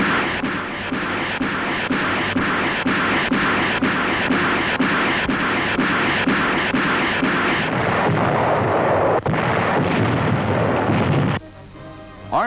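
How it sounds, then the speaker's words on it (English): Rocket barrages and artillery fire from wartime film footage of a shore bombardment on Okinawa, heard as a dense, rapid train of rhythmic booming blasts that roars on loudly and continuously before ending in a crackling burst, with no talk. "Terrific rocket barrages level shore defenses."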